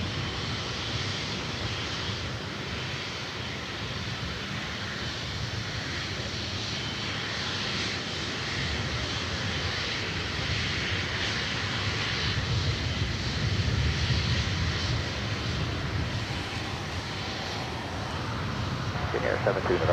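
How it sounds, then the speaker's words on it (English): Jet airliners at LAX, a Condor jet arriving and a KLM Boeing 777-300ER, give a continuous broad engine roar that holds steady and swells slightly toward the end, heard at a distance. "Condor going to arrive first before the KLM 777-300ER takes back to Amsterdam"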